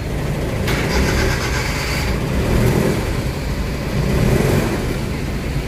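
An Isuzu Trooper engine runs after an automatic transmission fluid refill, giving a steady, close mechanical rumble and hum with a brief higher hiss near the start and slight swells in loudness.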